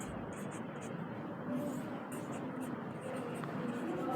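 A pen scratches continuously across paper while notes are written, a close, steady rasp with faint higher strokes on top.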